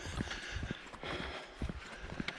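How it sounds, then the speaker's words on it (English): A large moose running through a forest trail, heavy thudding hoofbeats in an uneven rhythm, fairly close, with no talk. "That's either two giant mooses"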